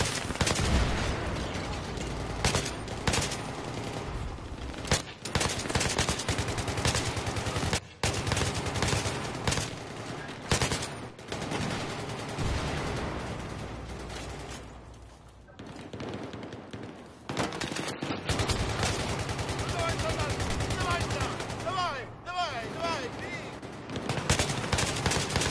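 Battlefield 3 gunfire keeps up almost without pause: rapid automatic bursts and scattered shots, loud and close, with brief lulls and someone talking intermittently over the fighting.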